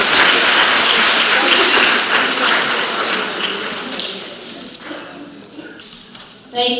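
An audience claps for the winners at an evening event, a dense wash of applause that starts loud and slowly thins out, ending with a brief renewed burst.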